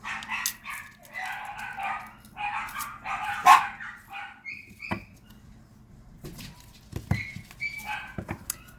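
A deaf dog barks in short excited bursts, several sharp yaps close by, with a few quieter gaps and scattered thin higher sounds between them.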